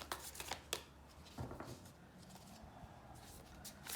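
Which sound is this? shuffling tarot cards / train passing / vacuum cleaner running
shuffling tarot cards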